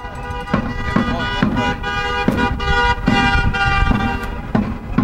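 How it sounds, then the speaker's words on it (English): Car horns honk again and again from passing traffic at a street protest in Louisville, Kentucky. The honks are loud, sustained and overlapping, with sharper toots cutting in every second or so over the road noise. "honking for your impeachment."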